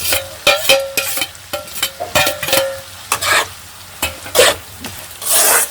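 Garlic, tomato, slit chillies and ginger hit a hot pan for a shrimp and taro-stem curry, sizzling and frying loudly under repeated stirring and scraping strokes, with no talk.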